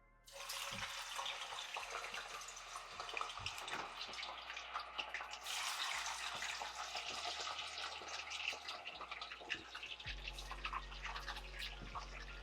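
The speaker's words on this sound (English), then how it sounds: "That way the grease don't go crazy when we drop our fries in here." Potato fries sizzle and crackle in hot grease, a busy hiss with scattered pops that stays steady, punctuated by a few clunks.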